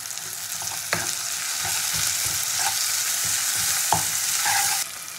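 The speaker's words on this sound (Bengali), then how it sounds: "পেঁয়াজটাকে মোটামুটি ভেজে নিয়ে দিয়ে দেবো টমেটো কুচি।" Onion and chopped tomato frying in a pan, a steady close sizzle with occasional sharp scrapes and knocks of a spatula stirring, no voices.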